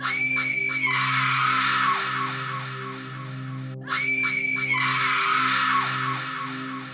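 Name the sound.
giant mutated lizard creature shrieking with a human voice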